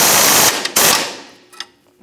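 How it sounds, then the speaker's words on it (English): A shock mount nut is tightened with an 18 mm socket and wrench on a 1992-1996 Ford F-150, giving a close, loud burst of rapid ratchet clicks that trails into a few faint taps. "18 millimeter socket and an 18 millimeter wrench. Let's tighten up this shock mount."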